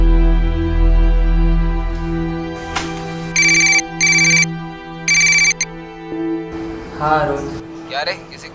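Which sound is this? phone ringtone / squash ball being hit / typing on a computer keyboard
phone ringtone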